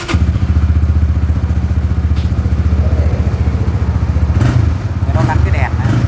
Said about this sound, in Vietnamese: Nổ máy chiếc Winner ABS cho anh chị mình nghe nha.